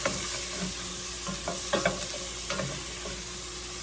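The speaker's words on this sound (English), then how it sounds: "We're going to put our veggies in here, and we're going to saute them up in that bacon drippings." Vegetables sauté in bacon drippings, a steady loud sizzle with scraping stirs and light knocks of a utensil at an irregular pace, no voices.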